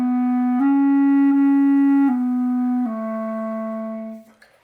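A reed wind instrument sustains a steady, bright tone alone, with light tongued articulations separating the notes, including two quarter notes joined by a tiny break rather than a gap, ending in a short trailing release.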